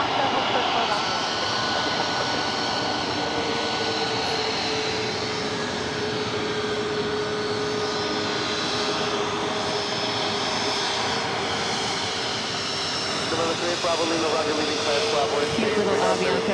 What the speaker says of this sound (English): Cute little Avianca 320 Neo coming in from Bogota. It's definitely the loudest A320 Neo I think we've heard.